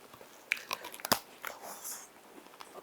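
Someone bites into a handmade kadaif pistachio chocolate bar, with a few sharp crunches up close followed by softer chewing and crinkling.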